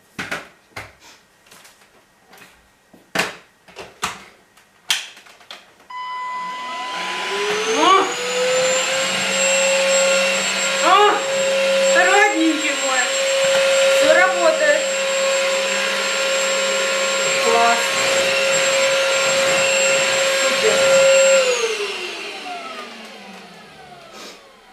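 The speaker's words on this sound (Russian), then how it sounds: "Опять мой пылесосик, потому что я пылесошу каждый день." A household vacuum cleaner in a home in Spain switches on after some knocking and clatter, runs loud and steady with a high whine and shifting pitch as the nozzle moves, then powers down.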